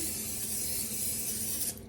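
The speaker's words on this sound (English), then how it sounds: "take some cooking spray and spray the pan." A continuous hissing spray from an aerosol can lasts nearly two seconds, then cuts off abruptly.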